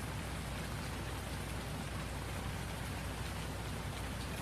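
Steady rain pours throughout in Farming Simulator 19, a dense, even hiss of drops on surfaces with a low rumble underneath, constant and fairly quiet with no voices.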